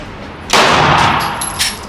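A single sharp gunshot from a PSA Dagger Micro pistol cracks loud and close, its metallic report ringing and decaying over about a second, with a faint second clank shortly after.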